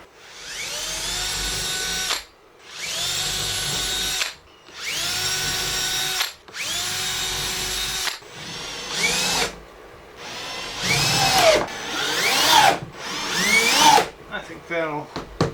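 A power drill drives screws into a vintage camper's rear window frame in a series of whining bursts, each rising in pitch and lasting about two seconds, with short pauses between and a brief voice near the end.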